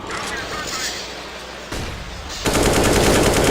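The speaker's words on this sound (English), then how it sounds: "He's going to use every bullet of that AK, every single one." AK rifle gunfire in a professional Counter-Strike: Global Offensive match, heard as dense, continuous rapid shots that grow louder midway, mixed with game ambience under excited live commentary.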